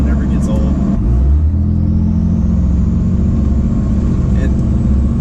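A 2007 5.9 Cummins diesel with an S&B intake runs steadily nearby, a loud low rumble carrying a constant turbo whistle, with voices talking over it.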